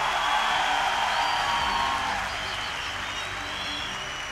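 Dense, continuous applause from a large crowd at a business gathering fills the space loudly and evenly, with no pauses, easing off only slightly toward the end.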